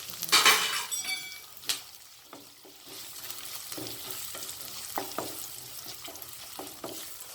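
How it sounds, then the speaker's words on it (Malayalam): Ginger, green chili and garlic sauté in a pan, a soft sizzle under a sharp clatter of utensil strikes at the start, then scattered stirring scrapes and light clinks over a low steady fry, no voices. "വഴറ്റുക."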